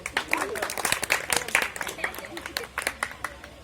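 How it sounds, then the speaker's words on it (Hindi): Audience claps in bursts of scattered, uneven applause at a live comedy magic show, with a voice talking loudly over the clapping. "ताली बजाओ, देखो"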